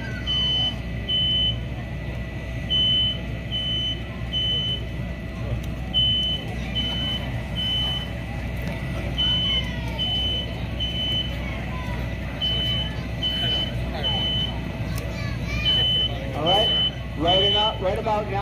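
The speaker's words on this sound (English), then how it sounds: "That smoke detector went off in 15 seconds." Smoke detector in a home fire sprinkler demonstration, sounding repeated triple beeps at regular intervals, faint and steady behind a constant roar of fire and background noise.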